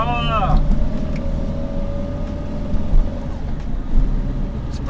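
A Skoda Favorit's engine drones on steadily inside the car while driving, a close low rumble that swells slightly in spots, with someone speaking over it.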